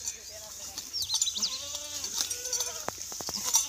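Goats bleat in an enclosed goat shed, several wavering calls overlapping at close range amid faint background chatter and a few sharp knocks near the end.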